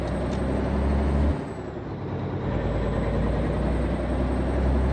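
A truck engine with the Z-Mods engine pack in American Truck Simulator drones steadily and loudly, with a brief air-brake hiss and a dip before the rumble returns, no talking.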